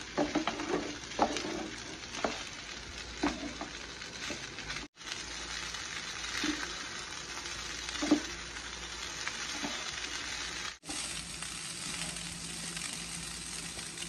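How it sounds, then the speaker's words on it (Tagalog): Fried rice being stirred in a pan with sauce and added ingredients, a steady close sizzle under scraping and tossing, with a few brief dropouts and no talk. "Haluin lang natin yung ating mga nilagay na ingredients para kumapit sa ating rice, yung mga sauce."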